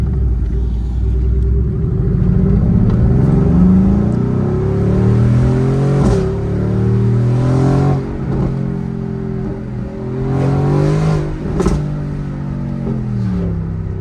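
A Mercedes-AMG GT R supercar's engine revs and pulls hard through the gears on a road, loud close rumbling tone rising and falling with sharp shift breaks between pulls.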